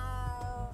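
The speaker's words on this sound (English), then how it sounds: "That's a funky meow. Can't say I've ever heard that come out of a cat before." A cat in a cafe in the video game Trails through Daybreak gives a single odd, warbling meow, close and clear over a steady game music bed.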